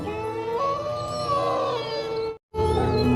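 Several long, wavering howls overlap in a drawn-out chorus, like wolves howling, with a brief silent gap before it resumes.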